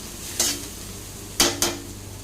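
A spatula scrapes and stirs sauce-coated fried rice in a hot pan, with three sharp metallic scrapes over a quiet sizzle and no voices.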